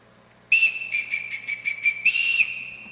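A shrill whistle blows a sustained signal with a rapid fluttering pulse, ending in a louder blast, loud and close.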